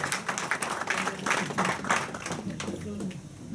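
Audience applause at a republican banquet in Paris, a steady wash of clapping mixed with speech and room noise throughout.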